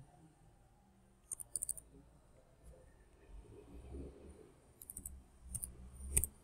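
Sharp clicking bursts from a computer keyboard as a password is typed, arriving in short quick clusters of keystrokes separated by pauses over a quiet low background hum.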